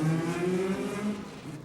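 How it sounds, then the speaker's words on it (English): A Courage race car rolls down the pit lane at the 1995 Le Mans 24 Hours, its engine droning loudly with a steady, slightly wavering tone over the short stretch. "Also coming down the pit lane is the Courage"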